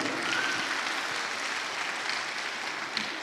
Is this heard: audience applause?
yes